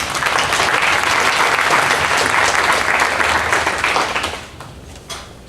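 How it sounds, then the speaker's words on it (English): Audience applause at a LULAC campaign forum, a dense, loud wash of clapping that holds steady for about four seconds, then thins and fades, with a brief last burst near the end. "Please give LULAC a round of applause."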